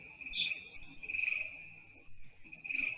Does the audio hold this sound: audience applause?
no